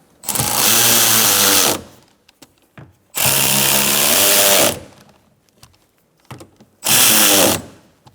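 A power tool whirs in three loud, steady bursts of about one and a half seconds each, with short pauses between, tightening the side mirror bolts on a 2014-2019 Kia Soul.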